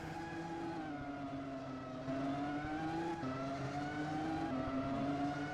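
Several Formula 1 race cars in a Roblox racing game drone steadily around the track during practice, a continuous layered engine whine with shifting pitch, fairly loud and without talk.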